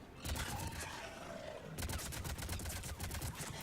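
Rapid gunfire from the video game Mass Effect 3 crackles in dense bursts, with a brief lull before a fast run of sharp shots resumes.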